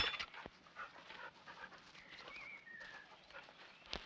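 Dogs pant in quick, breathy rhythm nearby, faint against a soft outdoor background with occasional bird calls.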